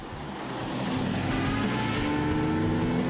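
A classic Lamborghini 350 GT sports car drives past with a steady engine drone that swells gradually as it nears. Its tone rises slightly in pitch, and no voices are heard.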